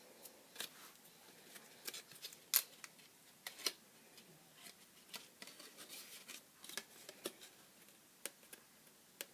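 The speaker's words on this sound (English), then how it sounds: "you just trim a corner off there so you don't get this tiny little bit of overhang" Scissors trimming the corners off a card box made on an envelope punch board, with sharp, irregular snips and small clicks in a quiet room.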